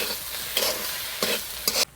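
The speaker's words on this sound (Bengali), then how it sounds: "সুজি দিয়ে ভালো করে নেড়ে চেড়ে নিয়েছি।" A spoon scrapes through coconut filling mixed with semolina as it cooks in a pan for pitha: three distinct stirring strokes over a soft background sizzle, close up, with no talk.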